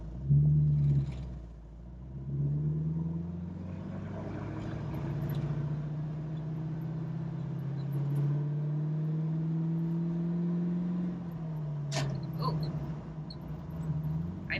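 A 1968 Ford Mustang Fastback driven in manual gear, its engine droning in a low steady rumble that climbs gradually under acceleration, close and continuous with a brief dip and change near the end.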